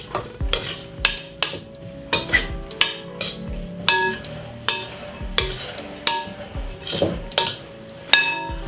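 A spoon stirs carrot in a bowl for a salad, giving a steady run of sharp clinks and scrapes at a regular rhythm, close and clear, with no talking.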